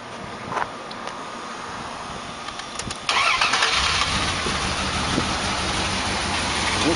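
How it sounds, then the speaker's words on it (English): A pickup truck engine cranks briefly and catches, then settles into a steady, fairly loud idle that continues to the end. "let's go start the truck and see what happens"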